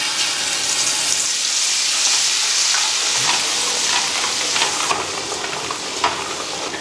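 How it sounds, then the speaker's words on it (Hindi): Ginger garlic paste fries in a pan, with a loud, continuous sizzle and hiss broken by occasional scrapes of stirring and no voices. "उसको अच्छे से ब्राउन करना है जिंजर गार्लिक पेस्ट को, जो जिंजर है वो कम है और गार्लिक ज्यादा है"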